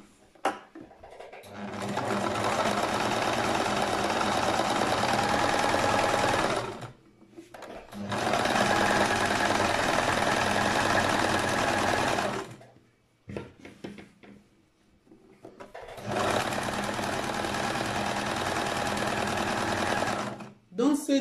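A sewing machine stitches a kimono jacket, running in three long, loud, steady whirring bursts separated by short pauses, close by.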